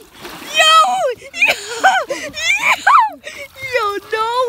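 People jump into cold 40-degree water, the splashes mixed under loud, excited shouting, gasps and whimpering voices that dominate throughout.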